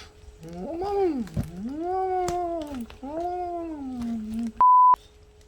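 A cat meows loudly and repeatedly in long drawn-out wails, close by, near a sack it is playing with, followed by a brief electronic beep.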